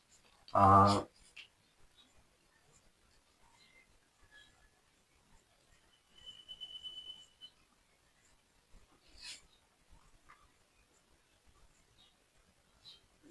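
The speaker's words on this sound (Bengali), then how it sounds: "আমি একটু সাইডে এখানে লিখে দিই" Faint, intermittent pen scratches come from the triangle area formula being written out, with one louder thump near the start and long quiet gaps between strokes.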